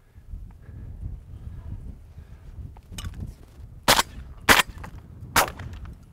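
Three sharp, muffled blasts from a shotgun fitted with a SilencerCo Salvo 12 suppressor, spaced about a second apart near the end, following quieter outdoor rumble and handling noise.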